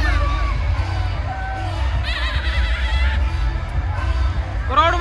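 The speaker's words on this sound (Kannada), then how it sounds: "ಕ್ರೌಡ್ ಮಾತ್ರ ಫುಲ್ ಹೆವಿ ಬಂದೈತಿ" A huge crowd at a Hindu Maha Ganapati immersion procession in Chitradurga, with heavy DJ sound, a dense din of chatter and shouts over thumping low bass, with scattered voices rising above the mass.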